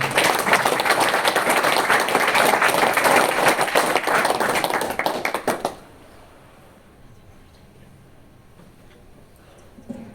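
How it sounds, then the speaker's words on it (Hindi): An audience at a Hindi-language health talk claps together in a loud, dense burst of applause lasting about five seconds, then cuts off abruptly into quiet room tone. "बजाओ बजाओ ताली।"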